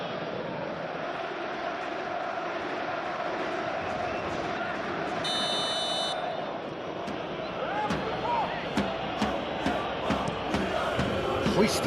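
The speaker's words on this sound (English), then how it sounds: "You can hear the annoyance in the crowd." A large stadium crowd in a football video game simulation of a PSG vs Arsenal Champions League final roars with annoyance, a broad, sustained murmur with a whistle partway through, under continuous commentary.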